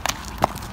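Horse hooves clip-clop in a few quick, soft thuds during a Western riding lesson, a short bareback outing, with faint background noise.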